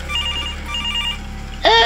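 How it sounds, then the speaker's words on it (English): A telephone rings inside the Rec Room horror game, a repeating electronic trill that starts faint under a droning ambience and swells loud and close near the end. "The phone's ringing."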